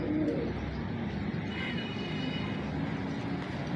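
A female Teddy pigeon of Lakha breeding keeps up a low, steady cooing nearby, with a fainter higher call rising briefly in the middle over a constant background hum.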